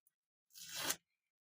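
A single short rip of adhesive tape being pulled and torn while taping craft pieces together, close up, lasting about half a second before stopping, with silence around it.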